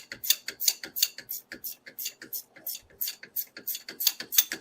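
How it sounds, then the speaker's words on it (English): A ratcheting wrench works on a Polaris Sportsman 570 ATV while fitting an All Balls Racing EZ Trail Boot Kit, making a steady run of quick, crisp clicks, close and fairly loud, with no voices. "Listen, folks. Ratcheting wrenches."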